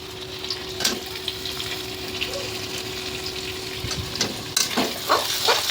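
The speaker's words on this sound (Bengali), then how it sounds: "টমেটো দিয়ে কিন্তু ভাজছে দেখো" Vegetables with tomato frying in a pan, a steady soft sizzle and bubbling with a few sharper crackles and stirring clinks toward the end.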